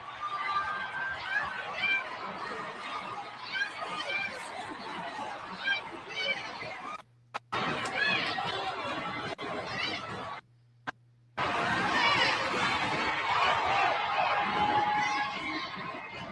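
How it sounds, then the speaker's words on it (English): A homecoming football crowd at the Vet erupts after a Jackson State touchdown, a big stadium roar of cheering and chatter that drops out briefly twice and then surges back loud. "And listen to this crowd erupt here in the vet on homecoming."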